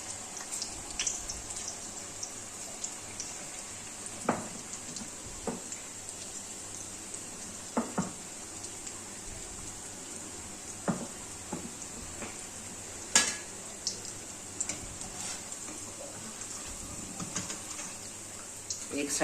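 Curry pakora cooks in a pan over a low flame, a quiet, steady bubbling hiss broken by occasional sharp clicks and taps of a utensil.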